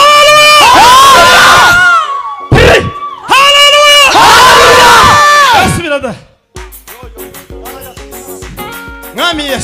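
A church congregation in Nairobi erupts in loud ululation and cheering in two long bursts, then musical instruments and voices carry on more quietly.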